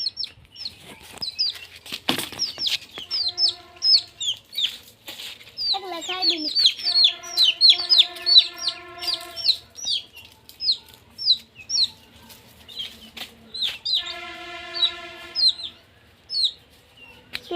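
Village hens cluck in repeated bursts at close range, with a rooster-like call and wing flapping amid rural background noise.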